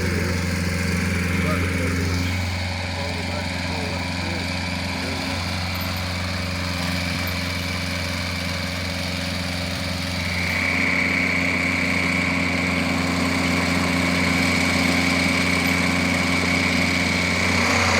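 A bulldozer-like machine moving a manufactured home on delivery day: a steady engine drone and idle runs the whole time, loud and close, with a slight rise in pitch partway through and no clear talk over it.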